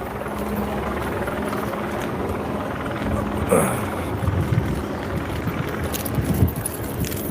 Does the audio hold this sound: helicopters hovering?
yes